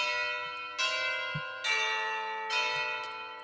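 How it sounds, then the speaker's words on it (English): A high bell ensemble patch from the Synchron Percussion sample library chimes in three ominous, ringing strikes. Each strike sustains and decays before the next one sounds, alone and fairly quiet. "this bell thing has a very ominous sound"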